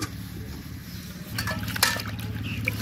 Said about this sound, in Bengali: জালি পাতাগুলো ধুয়ে নেব।